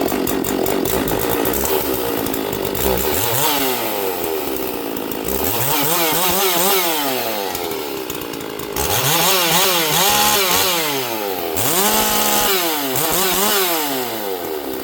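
A Stihl MS 460 chainsaw engine runs loud and close, with repeated rising and falling revs as the throttle is blipped, cycling several times under constant high-pitched buzzing.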